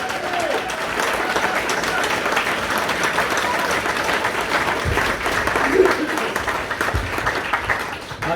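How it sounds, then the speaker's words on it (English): Sustained, loud applause from a crowd, continuous clapping throughout with a few cheers and murmurs mixed in. "could we give them a big round of applause"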